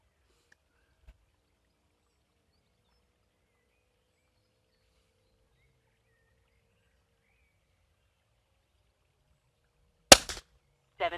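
An FTP 900 air rifle fires a pellet near the end of a long silence, giving one sharp, close crack followed by a couple of faint mechanical clicks.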